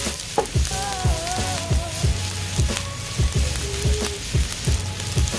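Chicken fried rice sizzles loudly in a hot pan as soy sauce is poured in, with a steady frying hiss broken by regular scraping and stirring strokes of a spatula.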